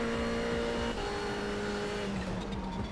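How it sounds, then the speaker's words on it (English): A steady, droning race car engine in the iRacing video game roars continuously at high revs, shifting pitch slightly partway through, with no talking. "Turn up the engine noises."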